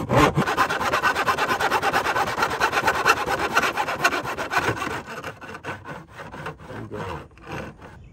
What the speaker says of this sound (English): Now, you use these two slots in order to make your 45 degree bevel.